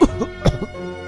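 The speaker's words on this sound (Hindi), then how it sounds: "वो जोर जोर से खांसने लगा और उसके मुंह से खून निकलने लगा।" A man coughing hard in repeated bursts, several close, harsh coughs in quick succession, loud and near with no other sound.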